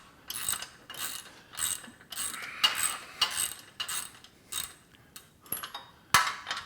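A socket wrench ratchets on bolts of a Body Solid EXM3000 home gym machine, sounding as a run of about ten short clicking bursts in a steady rhythm, close and fairly loud, with no talking.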